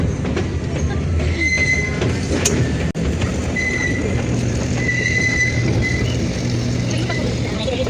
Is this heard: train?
yes